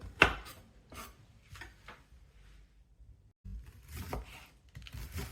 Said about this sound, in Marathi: आपण ह्याचे बुडके सर्व कापून घेऊया आणि छान बारीक करून घेऊया